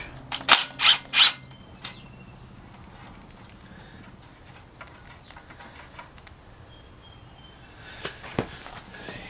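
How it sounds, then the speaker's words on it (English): A wrench working a bolt on a Generac 3000 watt generator, three sharp metallic clicks close together at the start, then quiet fiddling and light knocks, and a couple more clicks near the end, close up with no talk. "Don't need a ratchet, just use a wrench."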